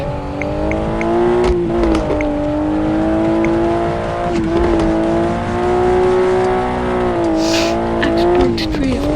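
A car drifts in a driving video game, its engine droning steadily at a high rev through the whole stretch with slight pitch swells, and a brief hiss near the end, loud and close.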